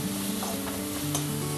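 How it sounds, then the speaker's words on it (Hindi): Vegetables with salt and vinegar frying over a high flame: a short burst of loud, continuous sizzling with a steady humming tone beneath it and no talking. "सब्जियां हमारी फ्राई होने लगी हैं"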